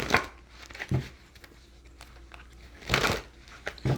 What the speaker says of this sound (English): All right, let's get us another little shuffle here.